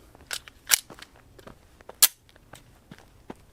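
A standard SIG P365 9mm pistol fires several sharp, fairly faint cracks at irregular intervals, each a quick snap with little tail.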